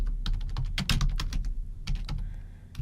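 Rapid keystrokes on a computer keyboard as a team message is typed into Slack, clicking in uneven bursts close up, with no voices.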